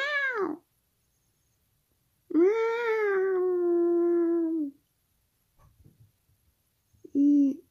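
A cat meows in a long drawn-out wail and a short cry, then gives one brief final meow, loud and close with quiet gaps between.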